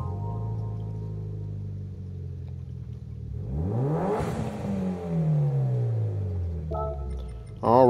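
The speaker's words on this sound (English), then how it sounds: "we can listen to the engine startup sound" A car engine in Gran Turismo 7, a 1996 Mitsubishi Lancer Evolution IV GSR, cranks and catches, then revs up with a rising, whining tone that sweeps down as it settles, ending in a sharp mechanical burst.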